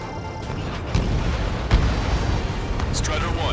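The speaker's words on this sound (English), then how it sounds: "Bombs away." Bombs dropped from an aircraft in the flight combat game Ace Combat 7 detonate as deep, rumbling booms, one after another beneath a steady engine roar.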